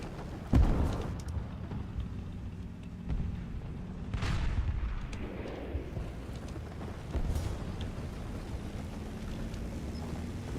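Artillery shots from a low-tier tank destroyer in War Thunder, heard as a few deep booming blasts with rumbling low-end tails spread across a steady engine drone, one sharp report early and softer thuds later.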